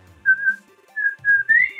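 A person whistles an imitation of the Splatfest intro whistle from Splatoon 2, a short clear melodic phrase of a few sustained notes ending in an upward slide, loud and close, with no talk over it.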